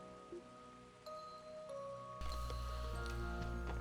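Rain falls in Trails to Azure, a soft steady hiss that swells suddenly partway through and continues under sustained background music tones.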